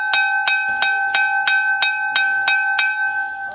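A super fine bone china lidded serving bowl is tapped nine times at an even pace, each tap a bright, clear ring that lingers briefly before the next.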